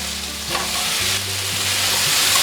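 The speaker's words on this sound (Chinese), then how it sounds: "继续翻炒， 炒一炒" Tomatoes, red and yellow bell peppers and cucumber stir-fried in a wok, a loud continuous sizzle with scraping stirs, while low background music plays underneath and nobody speaks.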